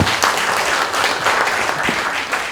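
Audience applause at a Korean party convention rally in Gyeongbuk, following a leadership candidate's campaign speech; steady, dense clapping fills the whole stretch at moderate loudness with no talking.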